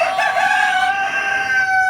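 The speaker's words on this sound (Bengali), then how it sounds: "এটা হচ্ছে আপনার ব্রাহ্মা মুরগি" A Brahma rooster crows once, close and loud, a drawn-out call that holds steady for about two seconds with no talk over it.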